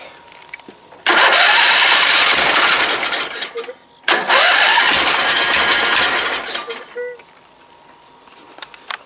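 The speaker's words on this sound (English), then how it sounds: "Trying to fire on one cylinder and not the other." An engine that has sat unused for nearly a year cranks and fires unevenly, catching on only one cylinder, in two loud sustained bursts separated by a brief pause, with a voice speaking faintly between attempts.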